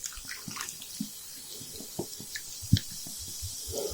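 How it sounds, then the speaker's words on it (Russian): Sparkling mineral water is poured from a bottle over meat sitting in shashlik marinade, giving intermittent splashes and drips that are fairly soft and close, with no talking. "Далее заливаем минералочкой. Минералка газированная"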